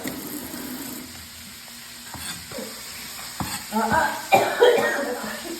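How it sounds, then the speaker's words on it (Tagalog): Chicken tinola sizzles in a pan as someone stirs in a poorly ventilated kitchen, then a few sharp coughs break out near the end. "Inuubo pag nandito sa kusina."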